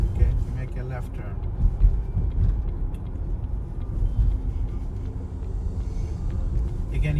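A car on a road test in Queens, New York, rumbling steadily as it drives and turns left, with a voice talking over the engine and road noise throughout.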